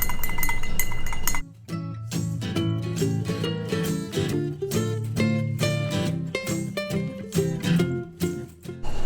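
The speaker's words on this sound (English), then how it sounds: "1 bar spoon, stir it" A metal bar spoon clinks rapidly and repeatedly against a glass while stirring spiced rum and sugar, bright close ticks in an uneven rhythm after a short stretch of hiss at the start.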